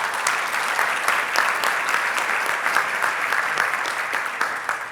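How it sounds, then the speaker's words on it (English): A conference audience at the 2019 TEA Summit gives a full, dense round of applause that holds steady for about five seconds, with many overlapping claps and no speech. "A big round of applause for all of our sponsors."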